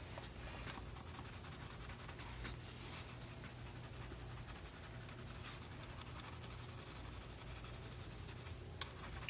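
A Caran d'Ache Neocolor II crayon scrapes steadily across paper, a faint, continuous scratchy rubbing with small strokes and pauses, close by and with no talking.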